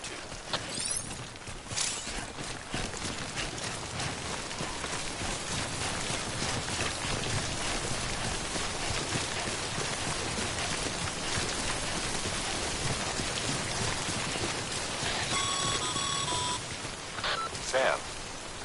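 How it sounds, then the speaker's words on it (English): Steady timefall rain falls in Death Stranding, a dense, even hiss of rainfall that stays constant throughout, with faint electronic beeps near the end. "Don't stay out in the rain any longer than you have to."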